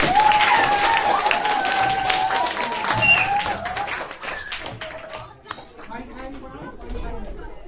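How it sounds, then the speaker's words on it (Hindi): Schoolchildren at a government school in Bihar clap for quiz winners, a dense burst of many hands that thins into scattered claps toward the end, with some background chatter. "एक बार सभी विनर के लिए जोरदार ताली बजाइए।"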